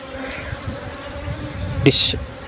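Honey bees buzz around a recently relocated hive, a steady droning hum that swells into a louder, closer burst of buzzing near the end.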